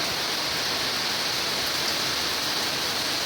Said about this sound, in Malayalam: മഴ പെയ്തോണ്ടിരിക്കുക.